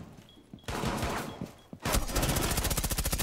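A gun fires from the hip in Rainbow Six Siege, loud and close: a short burst, a brief pause, then sustained rapid automatic fire.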